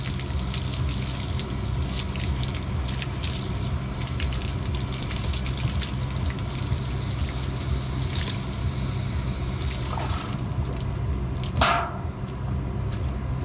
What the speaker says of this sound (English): he wants me to hose him off